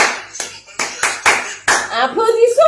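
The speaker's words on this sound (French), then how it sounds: "Applaudissez pour elle." A small group claps in several short bursts of hand claps, each quickly fading, before a voice begins speaking at the end.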